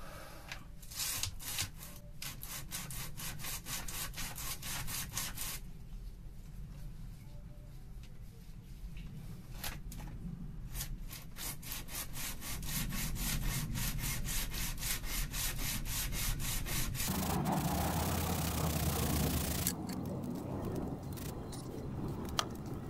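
Sandpaper rubbed back and forth along a mini lathe bed, a steady run of close, rasping strokes that continues without pause, with a brief shift in texture near the end.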